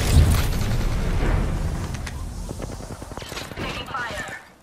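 Gunfire and explosive booms in an online battle-royale shooter match, a dense, loud barrage of shots and blasts opening the moment and thinning into scattered sharp cracks, with game voices and speech mixed in.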